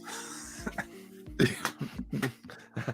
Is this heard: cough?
yes